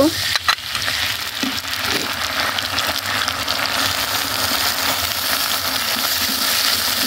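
Ground spice paste sizzling steadily in hot oil, a loud continuous frying hiss with a sharp crackle at the start and faint stirring scrapes throughout, no voices.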